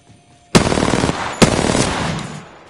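Automatic gunfire from a video game as a cargo bot is shot: two loud, sharp bursts of rapid fire, close and dominant, each trailing into sustained rattling shots.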